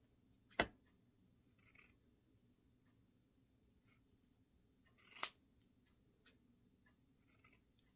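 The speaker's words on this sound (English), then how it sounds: "I've got my scissors, so I'm just going to cut" Two sharp scissor snips several seconds apart as paper stars are cut out, close and crisp, with faint paper rustling and soft cutting sounds between them in a quiet room.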